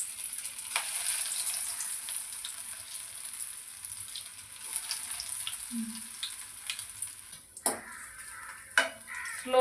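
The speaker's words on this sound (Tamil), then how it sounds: "போட்டு ஃப்ரை பண்ணி எடுத்துடலாம்" Potato balls shallow-fry in oil with a steady, fairly quiet bubbling sizzle. Toward the end come a few louder clinks and scrapes from a utensil, with no talking.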